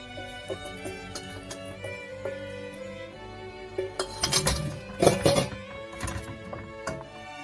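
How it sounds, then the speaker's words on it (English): Eggs stirred into coconut cream in a pot for kaya coconut egg jam, with soft clinks and scraping of a utensil against the pot, growing busier midway, close up and without speech. "stir in the eggs into the coconut cream."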